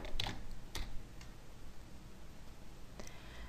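Faint keystrokes tap on a computer keyboard as a field name is entered, a few sparse clicks spread across a few seconds in a quiet room.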